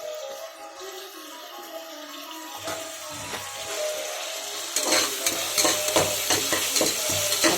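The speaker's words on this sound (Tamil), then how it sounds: "நல்லா வெங்காயம் தக்காளி நல்லா வதங்கி வரணும்." Onions and tomatoes sizzle and fry in a pan for goat trotter curry, with a spoon stirring and scraping against the metal, growing busier and louder in the second half; no one speaks.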